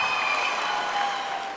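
Brief burst of clapping and cheering from a stand-up comedy audience, a short, steady wash of applause with a few whoops.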